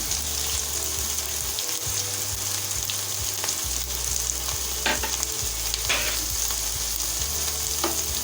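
Amaranth leaves with sesame seeds, salt and turmeric sizzle steadily in a pan while being stirred, with a continuous close frying hiss and occasional scraping of the spoon.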